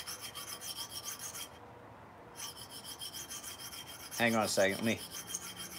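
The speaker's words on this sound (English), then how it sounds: "set the edge on this side one more time, back and forth. I think I got that serious burr." Edge of an XM18 flipper knife being sharpened with steady back-and-forth rasping strokes, close and fairly quiet, pausing briefly before resuming, with a voice speaking near the end.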